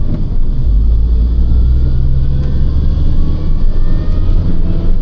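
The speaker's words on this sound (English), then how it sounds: "the supercharger whine is just, it is so intoxicating" Mini Cooper S driving along with a steady low engine and road rumble throughout, a faint supercharger whine riding on top, close and continuous with no talking.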